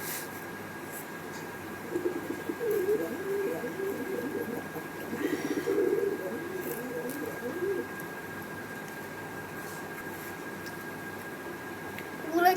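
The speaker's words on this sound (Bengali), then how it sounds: "ওগুলো আমাদের কবুতর" Soft pigeon cooing murmurs on and off against a quiet, hissy background, briefly louder in the middle of the stretch.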